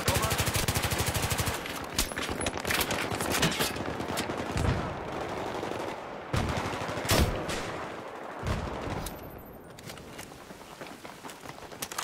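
Enemy machine gun fire in Battlefield 3, dense rattling bursts and scattered shots in a chaotic battle soundscape, loud and continuous throughout with sharper cracks standing out.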